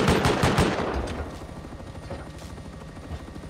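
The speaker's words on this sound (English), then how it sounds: "God, how many bullets was that?" Heavy automatic gunfire in the survival game Rust, a dense burst of rapid shots loud at first, then thinning into scattered cracks and a low rumbling tail.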